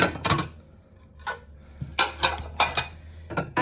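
A set of dishes is handled while a hutch is decluttered: several distinct ceramic clinks and clatters, close and fairly crisp, arriving in irregular bursts with quiet gaps between them.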